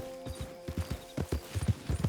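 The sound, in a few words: horses walking in the video game Red Dead Redemption 2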